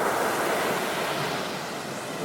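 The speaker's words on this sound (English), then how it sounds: "These are the waves which are making a lot of sound" Ocean waves on the open sea, a continuous broad wash of surf with wind noise, steady and full without any voices.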